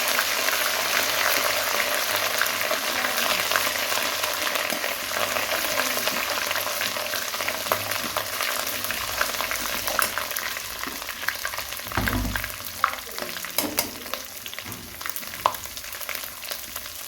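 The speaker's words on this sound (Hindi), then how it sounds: "लहसुन अदरक को 1 मिनट भुनाई करके" Garlic and ginger fry in hot oil for a degi-style chana pulao, giving a steady, dense sizzle that holds for the whole stretch, with a few sharper crackles and a brief stir near the end.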